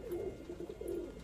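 Fine-breed domestic pigeons, some white, coo at home in a low, steady murmur of overlapping calls that is fairly quiet and continuous, with no talking.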